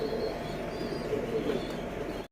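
Pigeons coo softly and continuously on a pigeon farm in Khulna, a low murmuring drone with faint higher chirps above it.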